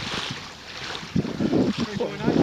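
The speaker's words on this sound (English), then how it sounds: "Wind's blowing 10 to 12 knots." Wind blows at 10 to 12 knots across a shallow lake on the upper Noosa River, a steady broadband rush with buffeting that swells louder in the second half, while low voices murmur under it.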